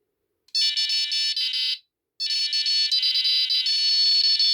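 Prologic 4+1 carp fishing bite alarm set to its most sensitive mode, giving a loud shrill electronic tone in rapid stuttering pulses, one burst of over a second, a short gap, then a longer continuous run, close by.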